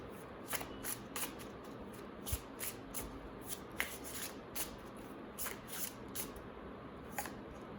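Tarot cards are shuffled by hand in repeated quick riffling bursts, crisp papery flutters and snaps recurring every half second or so, close and fairly quiet.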